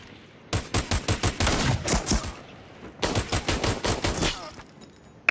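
Rapid bursts of video game gunfire in two loud volleys separated by a short pause, each made of dense, evenly spaced shots like automatic weapon fire, with a single sharp shot near the end.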